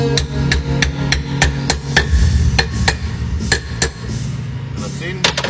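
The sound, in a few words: gently tapping a wheel bearing race in with a hammer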